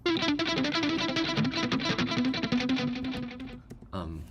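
Distorted electric guitar plays a fast riff mixing hammer-ons with picked open strings, dense and loud with an effects-heavy tone, cutting off abruptly before a short final hit.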